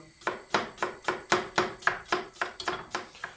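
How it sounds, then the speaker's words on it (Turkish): A knife slices an onion into half-moons on a cutting board in a quick, even rhythm, about a dozen crisp close-up strikes with no talking. "Ve bir tane soğanımı yarım ay şeklinde doğrayacağım."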